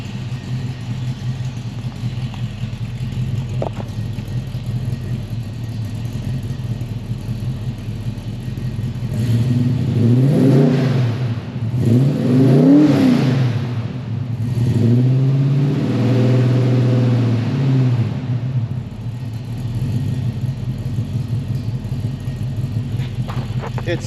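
A 1970 Ford Mustang Fastback engine warming up at idle, then revved several times in rising and falling surges before settling back to a steady close rumble.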